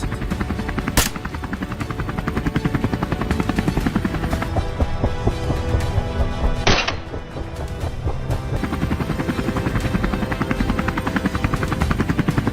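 Helicopter flying overhead during a wild boar hunt, a loud continuous rotor chop with rapid rhythmic blade pulses, close and steady throughout, broken by a couple of sharp brief cracks.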